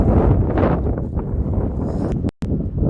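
Wind buffets the microphone at an outdoor cricket match between Telangana and Jharkhand, loud low rumbling gusts that cut out abruptly for a moment before returning.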